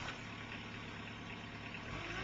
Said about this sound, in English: Have the parking brake off and start the engine.